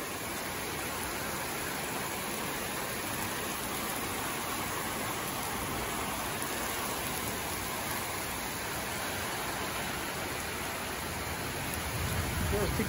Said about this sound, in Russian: Дождик лей.